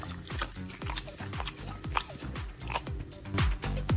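A dog crunches and chews apple scraps in a kitchen, a steady run of close, wet bites and crunches repeating through the clip, a few louder snaps near the end.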